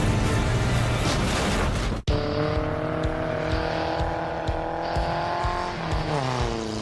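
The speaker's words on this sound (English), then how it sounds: "But racing on ice is a whole new deal for us." Cars race on frozen Lac La Biche in Alberta during an annual ice race, engines droning loudly and steadily with revving pitch changes and a brief cut, close and continuous.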